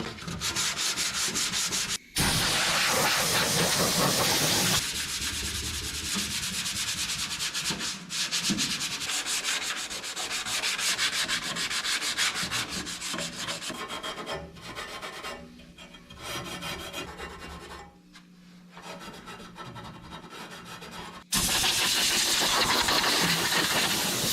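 An abrasive pad or sandpaper scrubs steadily over the bare metal body of a 1970 GMC truck, a close, loud, continuous rasping with brief pauses near the start and end and no talking.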